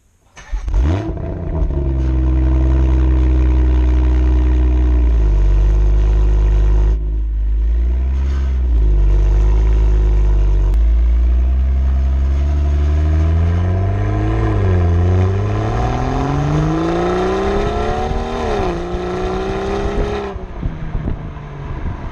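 A 2018 BMW X3 M40i engine revs hard under sporty acceleration, loud and close, climbing in pitch through several gear changes with brief dips between, wind noise layered over the drone.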